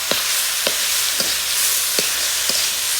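Leafy saag greens hiss loudly in hot oil in a pan, a dense continuous sizzle close up, with soft regular taps of stirring about every half second.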